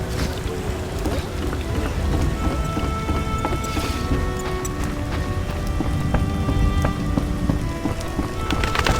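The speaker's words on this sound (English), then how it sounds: "How sad when it rains." Steady, loud rain pours in The Witcher: Enhanced Edition Director's Cut during swamp gameplay, a dense continuous patter with soft in-game music tones underneath.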